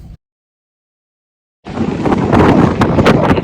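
Strong wind roaring across a cruise ship veranda balcony on the Celebrity Apex on a windy day at sea with whitecaps, a steady loud rush with mic buffeting that cuts in after a brief silence.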